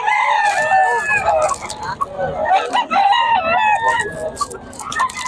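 Chickens and roosters in Bocaue crow loudly and close by. Several overlapping cock-a-doodle-doo calls and clucks follow one another almost without pause.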